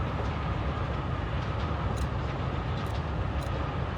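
A train in the game Forgotton Anne rumbles in a steady, loud, low drone with faint rhythmic clicks and rattles over it and no voices.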